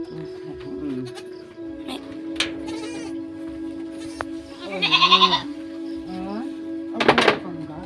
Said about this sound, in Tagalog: Ito ang bebe naming kambing.